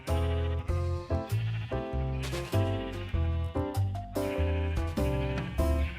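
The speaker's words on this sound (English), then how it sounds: "we got all 80 of the sheep" Sheep in the video game Highworlds Curse bleat over and over in a loud, close chorus of overlapping calls, one after another with barely a pause.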